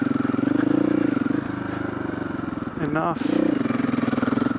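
Husqvarna FE501 dirt bike lugging uphill off road, a close, loud low-rpm single-cylinder thump with a brief rev rise midway, while a rider speaks briefly.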